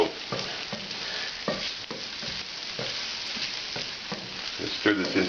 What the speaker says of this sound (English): let's stir this into the butter